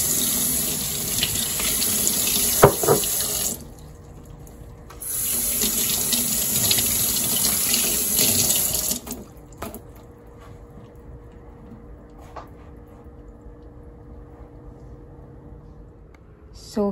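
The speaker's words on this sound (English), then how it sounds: "I'm just washing the aloe vera for now." Tap water runs into a kitchen sink as aloe vera leaves are washed, a close, steady splashing stream that cuts off briefly, resumes, then stops, leaving quiet room tone.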